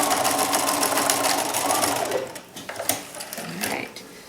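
Sewing machine stitching binding onto a fabric oven mitt, a steady close motor whir that runs for about two seconds, then stops and gives way to a few soft handling taps and rustles.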